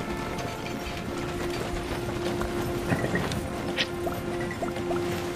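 Hooves of a magical donkey in a video game clop along in a steady, light rhythm, faint and mid-distance over a soft background hum, with a few small clicks and drips scattered through.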